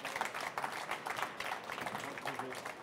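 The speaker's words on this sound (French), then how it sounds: "Merci monsieur, on vous applaudit." Moderate applause from an audience at a culinary trade show awards ceremony, a quieter patter of clapping that rises and falls in bursts over a few seconds.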